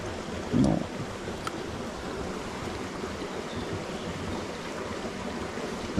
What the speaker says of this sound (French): c'est vrai que cette rivière, elle est très jolie